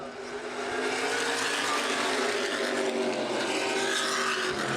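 A pack of Late Model Sportsman race cars roars up to full throttle at the green flag, a dense sustained engine drone building quickly and holding loud and near with no break.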